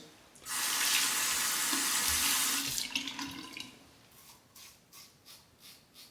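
A razor is rinsed under a running tap, a loud close rush of water for about two seconds that then thins into faint splashes and a few rhythmic swishes.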